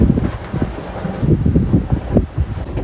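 Strong gusty wind buffets the microphone while sailing on the open ocean near a mountainous island's acceleration zone, a loud continuous low rumble with surging gusts and no voices.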